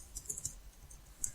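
Light, faint keystrokes on a computer keyboard while entering Java code, a few sparse clicks tapped out in a quiet room with no one speaking.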